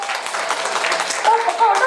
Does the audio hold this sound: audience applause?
yes